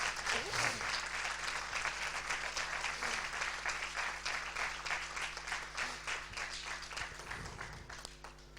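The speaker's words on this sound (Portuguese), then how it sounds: "Eu gostaria que vocês dessem uma salva de palmas pela vida dela em nome de Jesus Cristo." A church congregation claps in a full, sustained round of applause that holds steady and fades slightly toward the end, with faint voices underneath.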